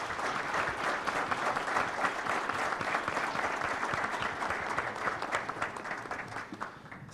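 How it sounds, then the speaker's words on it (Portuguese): Audience applause for guests at a real estate investment fund forum, a steady dense clapping from a seated crowd lasting throughout, fairly even in loudness and tapering slightly at the end. "uma salva de palmas para os nossos convidados"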